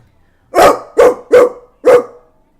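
A person imitates a realistic dog bark, four loud, sharp barks in quick succession, close up and alone against silence.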